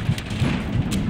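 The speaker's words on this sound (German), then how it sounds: "Oh, es regnet." Steady, dense rain hiss in the open-world game Just Cause 3, a continuous broadband wash with low rumble beneath and no clear voices.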